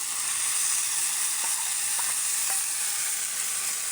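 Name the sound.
ground spice paste frying and stirred with Belgian duck meat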